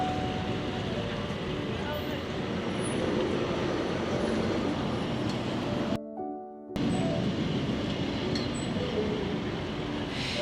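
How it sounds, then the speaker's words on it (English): An old tram running through Lisbon, Portugal, a loud steady rumble and rattle with broad wheel and street noise, briefly cut out partway through. "This is one of the pretty old trams."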